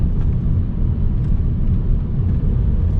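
Inside a moving Citroën C3 Aircross, the engine hum and road rumble run steady and loud through a downshift, with no distinct rev change standing out.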